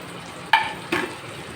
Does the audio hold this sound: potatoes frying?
yes